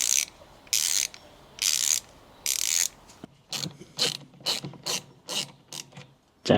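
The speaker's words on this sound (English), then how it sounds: "Oh, listen to the ratchet on that." A cheap power tool's ratchet clicks in loud rapid bursts, first four evenly spaced longer runs, then a quicker series of sharp separate clicks, close and alone.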